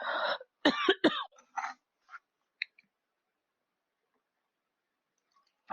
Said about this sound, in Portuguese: eu vou ficar com tosse aqui, porque hoje está muito seco o ar aqui